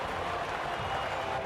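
Sellout crowd applauding a Japanese Grand Prix victory at the podium in the racing game F1 23, a steady dense wash of clapping and cheering that stays even throughout.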